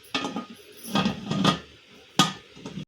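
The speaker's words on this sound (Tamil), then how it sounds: "இப்போ நாம் மூடி போட்டு க்ளோஸ் பண்ணிடலாம்" A metal lid is set onto a pressure cooker in a kitchen, giving a few separate clanks and clinks of metal on metal spread across a few seconds, close and fairly quiet.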